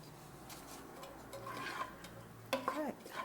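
Onions sizzle softly in a pan for escarole and beans, a faint steady frying hiss with light stirring and utensil clinks against the pan, close and quiet.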